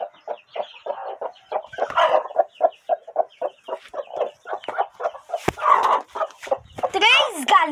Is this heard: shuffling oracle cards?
no